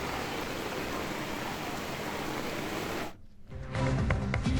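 Heavy rain pours steadily in Shivamogga, a loud, dense hiss that breaks off briefly before noisier sound returns.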